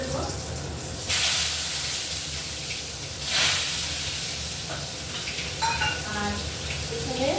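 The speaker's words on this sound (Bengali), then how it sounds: "এই 5 ফোড়নটার মধ্যেই আমি আলুটা দিয়ে দেবো, একটু ভাজা ভাজা করে দেবো" Potatoes sizzle in hot oil with a five-spice tempering while a cabbage curry with hilsa fish head is cooked. A steady close crackle runs throughout, with two loud hissing surges as the pieces hit or are stirred and a few sharp pops near the end.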